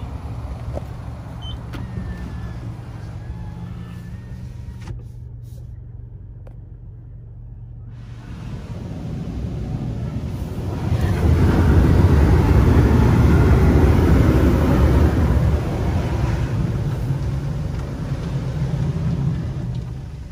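A Belanger Saber automatic car wash at a Shell station in Miami runs with a steady mechanical hum that gives way to loud, broadband hissing sprays of water, heard from inside the car, with no talking.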